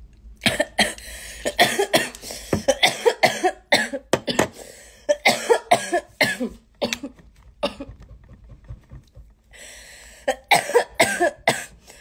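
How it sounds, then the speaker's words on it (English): A person coughs hard and repeatedly, harsh hacking bursts in rapid clusters with brief pauses and a quieter stretch midway, close and loud with no speech. "I'm just like coughing up a lung."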